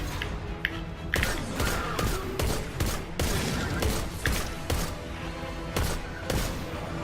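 Gunfire in the video game Destiny 2 during a boss fight, with loud, rapid bursts of shots and heavy impacts repeating over several seconds and no talking.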